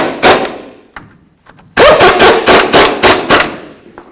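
A power impact tool drives sway bar bushing bolts on a 2005-2015 Toyota Tacoma, loud close rapid hammering bursts, one short then a longer rattling run.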